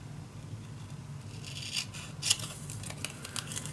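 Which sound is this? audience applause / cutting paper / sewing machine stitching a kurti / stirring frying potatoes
cutting paper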